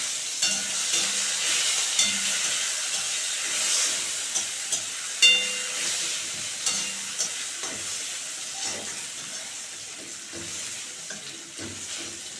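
Crushed garlic and chillies fry in a little oil with a continuous close hiss and sizzle, broken by small pops and occasional stirring clicks.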